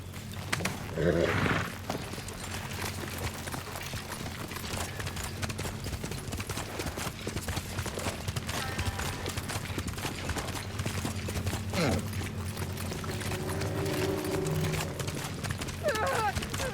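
Horses gallop in the samurai video game Ghost of Tsushima. Steady, rapid hoofbeats run the whole length under a low rumble, with a brief vocal sound near the start.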